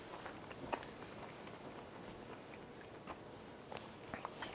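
Crispy, golden boneless fried chicken with a crunchy, knobbly crust is bitten and chewed, giving faint, close crackles and crunches scattered irregularly over a quiet background, with sharper bursts near the start and end.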